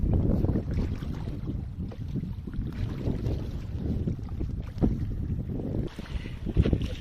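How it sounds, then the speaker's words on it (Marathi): Waves and wind on the Arabian Sea at Vengurla, Sindhudurg: a continuous heavy, low rumbling wash with gusty buffeting that stays loud and even throughout. "हा पूर्णपणे समुद्र आहे."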